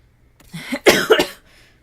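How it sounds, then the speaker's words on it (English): A single person coughs a few times in quick succession, close and fairly loud, with silence before and after. "Sorry about the coughing."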